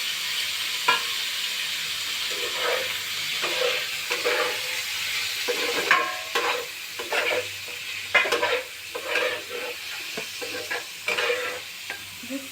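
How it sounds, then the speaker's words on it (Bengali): Paneer cubes fry gently on a low flame for fried rice, with a continuous soft sizzle and repeated scraping stirs from a spatula throughout, close by and moderately quiet. "গ্যাসটা লো ফ্লেমে রেখে হালকা করে ভেজে নিই।"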